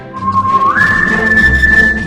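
A person whistles a clear steady tone close by, holding one low pitch and then sliding up to a higher held note, with a faint rumble of background noise beneath.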